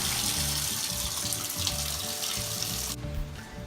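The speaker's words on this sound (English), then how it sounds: "Make the water as warm as you could possibly stand it." Warm water pours steadily from a tap into a bathtub, a loud, close, hissing rush that cuts off abruptly near the end, leaving quiet room tone.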